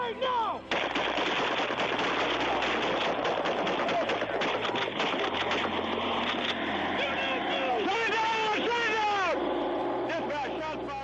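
Gunshots ring out during a police shooting at a traffic stop, sharp cracks scattered through a loud, dense scene with voices talking and shouting throughout.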